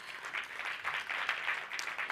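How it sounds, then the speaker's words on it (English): Audience applause for someone speaker, a company founder and CEO, at an event about women in energy: a steady, moderately faint patter of many hands clapping throughout. "Let's give her a round of applause."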